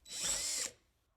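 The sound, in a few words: drilling holes in the roof of a Chevy Astro van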